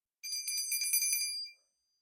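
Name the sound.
small bell rung during tarot reading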